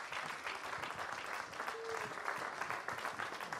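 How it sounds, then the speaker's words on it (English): Steady applause from a crowd, a dense patter of clapping throughout, heard from some distance. "Warm round of applause for Dany."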